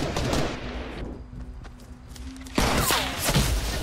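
Rapid bursts of gunfire from a Fortnite match strike the player, loud and close, with a quieter pause between two dense volleys.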